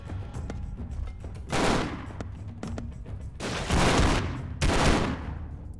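Automatic gunfire in The Expendabros video game, with loud rapid bursts, three of them long and heavy, separated by quieter stretches of scattered shots and game noise.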